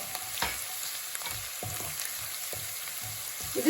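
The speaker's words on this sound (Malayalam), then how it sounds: "ഇനി നമ്മൾ അരിഞ്ഞു വെച്ചിരിക്കുന്ന പച്ചമുളക് നമ്മുടെ കറിവേപ്പില ഇട്ട് കൊടുക്കുന്നു" Green chillies and curry leaves fry in an oiled pan for Kerala-style chicken thoran, giving a steady close sizzle broken by short clicks and scrapes of stirring.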